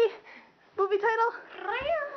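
A person vocally imitates a cat during a game of charades, giving a few drawn-out, wavering meow-like cries after a short quiet pause, close and fairly loud.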